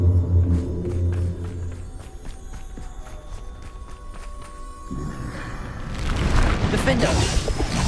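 In Hogwarts Legacy, a Bombarda explosion spell bursts amid combat, a heavy booming rumble swelling in the last few seconds after a stretch of thuds, footsteps and spell effects.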